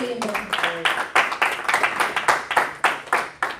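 A church congregation claps at a Portuguese-language service, loud and near, in a quick, fairly regular rhythm of sharp hand claps that starts under a brief voice and then continues on its own.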